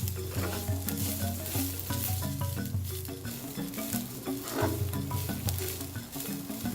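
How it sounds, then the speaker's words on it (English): Rice frying with whole spices in coconut oil in a wok: a soft, continuous sizzle and occasional stirring sounds sit beneath steady background music. "Let's stir to combine the rice with the fragrant whole spices and coconut oil. We'll fry this for about 2 minutes."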